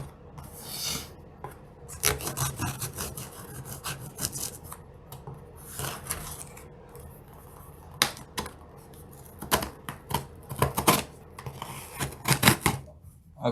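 Close rasping and scratching of plastic packaging being worked open on a set of MetaZoo Nightfall theme decks, in irregular bursts of rubbing and crinkling with short pauses between.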